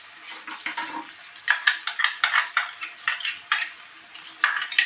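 A utensil stirs coconut paste into prawn masala in a pan, making a run of rhythmic scraping and clinking strokes over a light sizzle, close and fairly loud.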